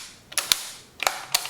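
Springfield 1898 Krag rifle in .30-40 caliber being cycled with its magazine cutoff engaged: sharp metallic clacks of the bolt and action in two quick pairs, close and crisp against near silence.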